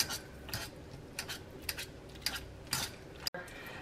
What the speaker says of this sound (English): I am just mashing it with a fork